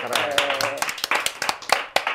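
Hands clap in a quick uneven patter of sharp slaps during an Indonesian youth group (OMK) podcast, several people applauding briefly up close with speech overlapping.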